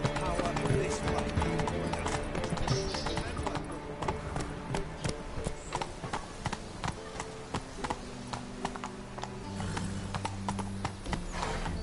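Horse hooves clip-clopping at a slow walk in The Witcher 3 video game, a steady rhythmic plodding under continuous game music and ambience, with voices talking over it.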